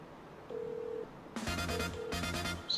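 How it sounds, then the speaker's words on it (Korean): A phone being dialed to place a call: a single steady tone, then two bursts of rapid touch-tone beeps, fairly close and clear with no talking. "아니 지금 바로 전화하세요"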